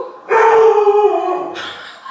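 A dog lets out a loud, close, sustained howl that wavers in pitch and fades, followed by a short higher yelp-like whine at the end.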